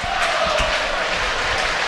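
Football supporters at Gillingham's ground cheering in the rain during a league match against Blackpool, a steady broad crowd roar with constant hiss, no clear peaks, loud and continuous throughout.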